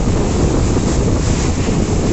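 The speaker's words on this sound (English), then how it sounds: "This is the waterfall." Kuske Waterfall in Canacona, Goa, a broad, loud rushing roar of falling water, constant and dense across the whole clip with no voices.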